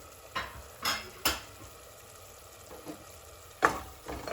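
A spoon scrapes and stirs a tempering of spices frying in a pan a few times over a quiet, low sizzle, with sharp clinks spaced out and no talking.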